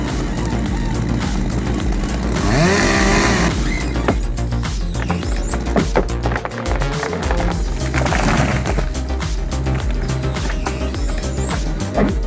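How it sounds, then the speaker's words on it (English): Stihl chainsaw cuts into a massive 47-inch tree trunk, engine roaring loud and near, surging and dipping in pitch as the chain bites, with rough rattling bursts through the cut. "this Still chainsaw takes on a massive 47-inch trunk"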